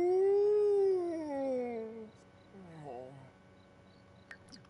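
A werewolf lets out a somber howl in The Sims 4: one long, loud, mournful cry that rises and then slides downward for about two seconds, followed by quieter, wavering vocal sounds and faint game effects.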